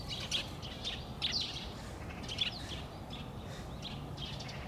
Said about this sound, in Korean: 비둘기들이 광장에 모여가지고